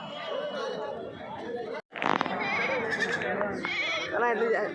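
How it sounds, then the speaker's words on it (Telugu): Adult goats and kids bleat amid busy livestock market chatter, several animals calling over a steady crowd of voices, with a brief pause partway through. "పెద్ద సైజు మేక మేకలు పిల్లలే కదా పిల్లలే"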